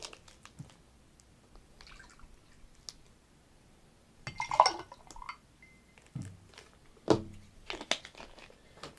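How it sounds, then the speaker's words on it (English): Cranberry juice poured into a cocktail glass gives a few short liquid splashes, with glass clinks and handling noises around it. The sounds are close and quiet and come in separate bursts, with no talking. "The next thing you want to do is you want to add 2 ounces of your cranberry."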